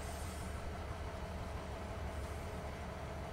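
Train in the video game Farming Simulator 22, a steady low rolling rumble of rail cars with no talking.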